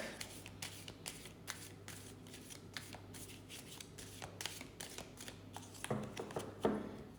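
A deck of cards being shuffled for a tarot-style reading, with a run of quick riffling bursts in an even rhythm, close and fairly quiet, ending in a few sharper taps as the cards settle.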